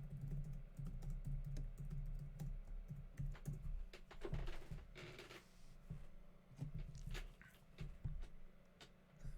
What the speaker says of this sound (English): I don't know why I'm typing this, but fine.